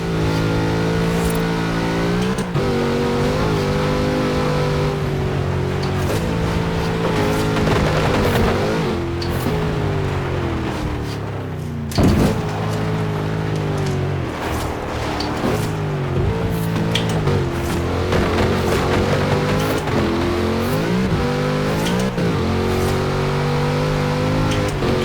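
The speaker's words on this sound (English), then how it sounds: "Such power in the big Chevrolet engine." A big Chevrolet engine in a driving video game revs loud and continuously, its pitch rising and falling through repeated acceleration and gear changes, with a brief drop in the middle.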